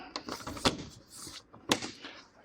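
A door on a squaredrop teardrop off-grid camper fitted into its opening, with two sharp knocks and thuds amid rattling handling noise, close and fairly loud.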